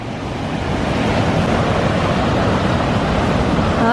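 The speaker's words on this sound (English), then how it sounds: "Oh, that's a rushing waterfall." Rushing waterfall in Michigan's Upper Peninsula, a loud steady broadband roar heard close up for four seconds without pause, with some wind buffeting on the microphone.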